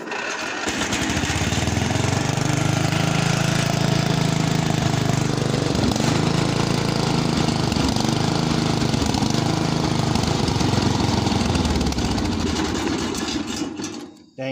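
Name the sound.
Ranch King riding mower engine cranking without choke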